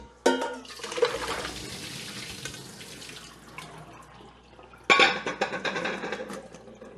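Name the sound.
water draining as boiled potatoes are strained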